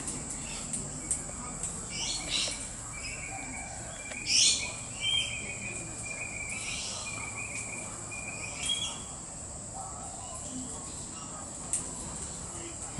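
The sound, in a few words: king parrots calling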